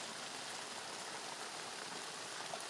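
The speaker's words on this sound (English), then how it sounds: "Look at all the rain." Heavy rain falls in a dense, unbroken hiss, steady and close throughout with no letup.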